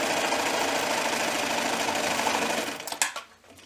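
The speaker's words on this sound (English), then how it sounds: "I'm just literally going to stitch them in place" A sewing machine stitches fabric for a pumpkin pot holder: a fast, even mechanical whirr of the needle running close and steady for about three seconds, then stopping with a few clicks and a light rattle.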